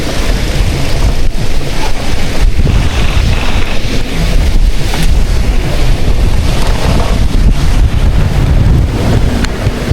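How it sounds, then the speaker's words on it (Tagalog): Strong typhoon wind roars and buffets the microphone on a beach in Talisay, a loud, continuous, rushing rumble with waves mixed in, no talk. "Grabe na diri mga kadok hangin."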